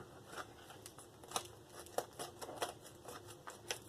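Scissors cutting through a heavy 7 mil Mylar bag, quiet close-up crisp snips and crinkling plastic in an irregular run of short clicks.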